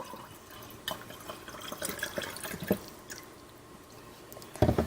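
Rubbing alcohol poured into a jar half full of water, with soft trickling and dripping that ends in a louder splashy burst of liquid.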